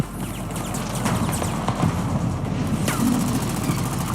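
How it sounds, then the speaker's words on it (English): Rapid game gunfire and explosions from Girls' Frontline form a dense, continuous battle din, with sharp bursts and booms layered over a steady low rumble. "The sound of gunfire, explosions, and tearing metal weave themselves into a chaotic cacophony"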